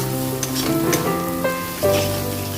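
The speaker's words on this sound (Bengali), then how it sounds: "এবার এই মশলাটাকে আমি খুব ভালো করে কষবো।" Masala spice paste with Kashmiri chilli powder fries in a pan, a continuous close sizzle broken by a few stirring scrapes.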